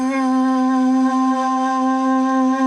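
Synth pad sample holding a steady, sustained chord with a strong low fundamental and stacked even harmonics, loud and unbroken for a few seconds with no attack or gaps, from a free Elektron Digitakt sample pack.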